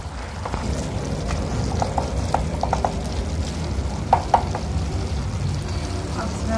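Cabbage, potato and capsicum curry being stirred in a pan, with soft scraping and clinking strokes of a spoon over a low, steady cooking hiss, including a couple of sharper knocks near the end.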